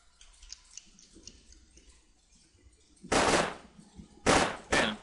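A squad opening fire together in the tactical game UFO Aftermath: after quiet ticking and faint background sounds, three loud bursts of gunfire come close together near the end.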